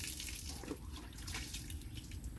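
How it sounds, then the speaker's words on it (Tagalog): Water poured over a person's body while bathing at home, a steady splashing and trickling stream that runs continuously at moderate level with no voices. "Magbuhos lahat. Pati katawan."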